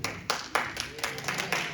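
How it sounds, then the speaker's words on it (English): At a Shasta County supervisor candidate forum, about eight sharp hand claps land in a loose, fairly even rhythm over a quiet room, sounding like a sparse patch of audience applause rather than a full round. "I love clapping too. But if we keep clapping, we won't be able to hear other people talk."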